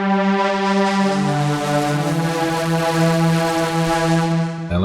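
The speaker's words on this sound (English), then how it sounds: "And then I added another pad sound." A sustained synth pad from the Serum plugin holds a rich, buzzy chord that shifts pitch a couple of times, playing loud and alone before cutting off.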